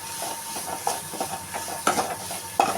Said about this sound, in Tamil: தேவையான அளவு கேரட் போட்டு நல்லா வதக்கிக்கிறோம்.